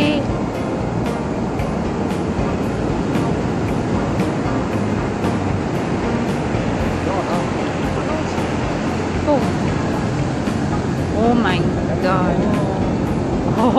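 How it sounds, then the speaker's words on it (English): High ocean waves crash on the shore on a first visit to Los Angeles, a loud continuous roar and wash of surf with brief high chirps near the end. "Oh my God, those waves."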